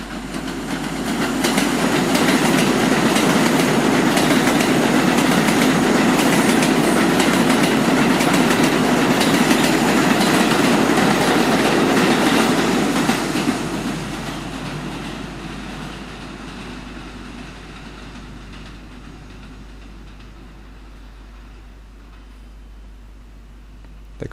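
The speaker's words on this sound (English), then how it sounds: "The express train passing through the station" An express train of ten carriages runs through a New York station without stopping, a loud continuous rumble and clatter of wheels that holds steady for about thirteen seconds, then fades as the train draws away.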